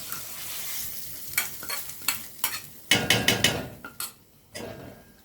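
Vegetables are tipped into a pot of cooking soup and stirred, giving a string of clattering spoon scrapes and knocks against the pot over a soft simmering hiss, close and fairly loud.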